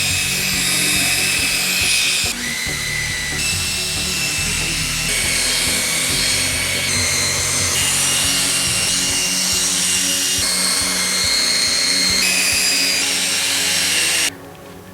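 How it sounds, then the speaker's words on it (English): A rotary buffer with a 3-inch pad and Ultra Cut compound works across the hood of an Audi A4 with faded, oxidized black paint. It gives a loud, continuous high whine that shifts pitch slightly and then cuts off near the end. "I've gone over the whole hood a couple of times with the 3-inch buffing pad and the Ultra Cut compound."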